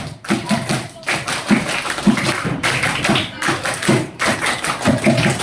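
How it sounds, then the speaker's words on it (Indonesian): Schoolchildren doing the rhythmic Pramuka scout clap twice in a row, a loud crowd of patterned handclaps and taps in quick groups, separated by a brief pause, with some voices mixed in. "Tepuk pramuka. Nah, siapa yang tahu? Oke, kita tes ya. 2 kali tepuk pramuka."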